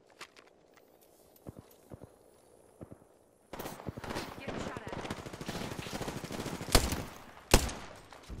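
Gunfire from a nearby shooter in Apex Legends, a few sparse distant pops at first, then a sudden loud stretch of rapid automatic fire with two sharp, heavy shots standing out.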